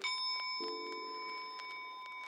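A small bell rung during a tarot card reading gives one clear, sustained metallic ring that hangs and slowly fades, heard alone in a quiet room.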